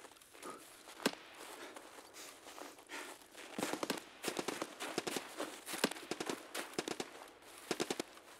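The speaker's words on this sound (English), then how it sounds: "Lots of gunfire on this map already." Scattered sharp pops and bursts of gunfire ring out in Escape from Tarkov on the Customs map, some in quick clusters, against a quiet hissy background with no talking.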